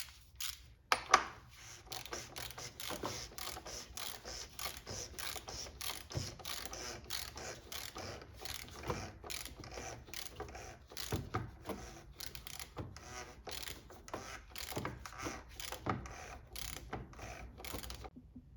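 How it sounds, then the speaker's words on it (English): A socket wrench ratchets continuously during an oil change on a 2002 BMW E46, its quick metallic clicks running in an uneven rhythm throughout, close up and moderately loud. "we'll switch back to our socket wrench"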